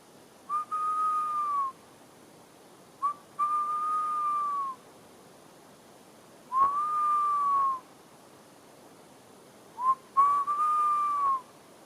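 A person whistles an imitation of a tawny owl call in winter woodland: four long, steady, drawn-out whistles, some preceded by a short note, separated by pauses, close and clear over a quiet background.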